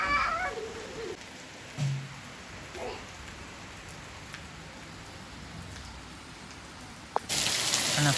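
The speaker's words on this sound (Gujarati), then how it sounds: "તમે જુઓ કેટલો બધો વરસાદ આવી ગયો." Heavy rain falls steadily outdoors, a broad constant hiss of drops with a few brief nearby knocks and splashes and a sudden louder burst of rushing water near the end.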